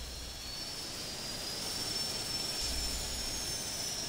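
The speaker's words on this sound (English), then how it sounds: "I'm gonna start the engine up and see what that baby sound like." The single turboprop engine of a TBM 930 in the flight game Infinite Flight runs with a steady, loud roaring drone and a thin high whine on top, holding evenly with no talking.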